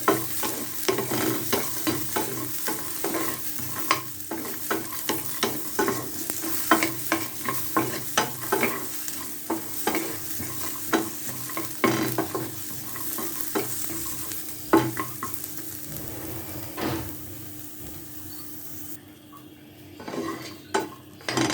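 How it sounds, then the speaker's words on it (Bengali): Chopped onions dry-fry in a pan with no oil for a kalojira bharta, and a spatula scrapes and clatters against the metal in a busy, irregular rhythm. A soft sizzle runs underneath the whole time, and no voices are heard. "দেখুন আমি পেঁয়াজগুলিকে কিভাবে ভেজে নিচ্ছি। এখানে কিন্তু কোনো প্রকার তেল দেইনি আমি।"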